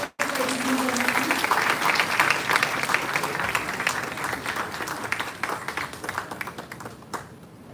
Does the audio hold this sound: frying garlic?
no